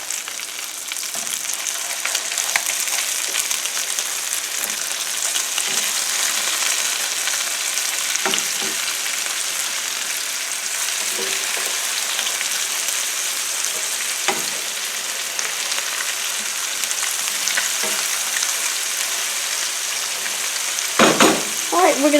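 Hamburger steak patties fry in a skillet with a steady, close sizzle throughout, punctuated by occasional scrapes and clinks, with a louder clatter near the end.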